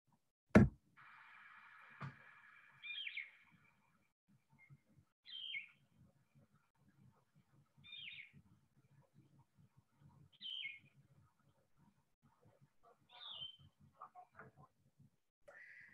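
An olive-green songbird with yellow spectacles repeats a short, burry song phrase every few seconds against a quiet background, after a sharp knock at the start.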